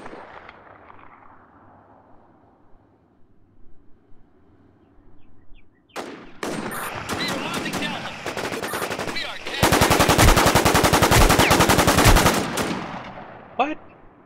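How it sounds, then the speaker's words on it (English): Video game gunfire in War Inc Battlezone, close-quarters combat on maps such as Torn, Burning Sea and Crossroads: quiet ambience gives way to dense, loud automatic bursts that build to a sustained roar of rapid fire before cutting off, with one last sharp shot. "I could have sworn I was shooting him more"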